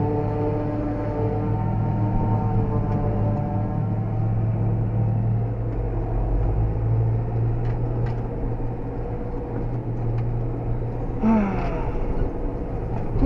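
A John Deere 6400 tractor hauling a Forschmidt manure spreader drones steadily from inside the closed cab, a constant low engine hum with a few faint clicks and rattles.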